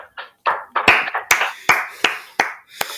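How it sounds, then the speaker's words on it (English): A handful of people clap on cue during a wrestling-themed podcast recording, about nine sharp, uneven claps over a few seconds, close and loud with short gaps. "Clap it up, everybody."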